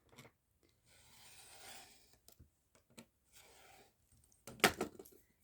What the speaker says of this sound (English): Just using my craft knife and ruler to get a nice straight edge